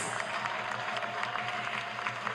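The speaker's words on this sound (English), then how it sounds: "Can we give him another round of applause," Applause from a crowd at a live plenary session, a continuous even patter of many hands heard at a moderate distance in a reverberant hall, with a faint steady hum underneath.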